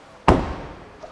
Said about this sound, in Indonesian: pintu belakang saya banting yang keras.